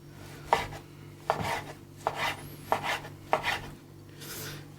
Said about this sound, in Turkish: Burada kuyruk yağımızı bu şekilde doğruyoruz.